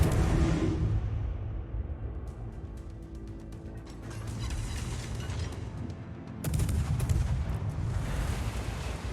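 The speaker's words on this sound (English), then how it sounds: "I guess I should just use my guns at this point" Ship guns fire in World of Warships during a battle against super battleships, with heavy booming blasts over a constant rumbling battle din, a sharp loud salvo standing out near the end, no speech.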